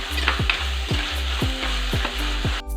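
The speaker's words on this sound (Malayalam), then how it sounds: "നല്ലോണം ഒന്ന് ഇളക്കി കൊടുക്കാം." Green chillies and salt fry in a hot pan under a loud, continuous sizzle, with a spoon scraping through in about six regular strokes, roughly twice a second, close up and with no talking.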